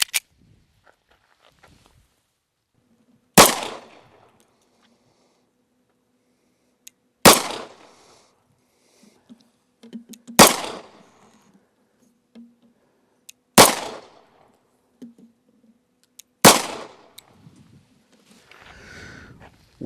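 A Rock Island Armory 1911 pistol fires .22 TCM ammunition at a range, five sharp, loud shots spaced a few seconds apart, each with a brief ringing tail against near silence.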